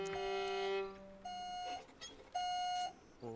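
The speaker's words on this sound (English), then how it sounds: "somebody's alarm is going off" A Sims 2 in-game alarm clock goes off in three bursts of bright, harmonic electronic beeping, each about half a second long with short gaps between, loud and close with no talking over it.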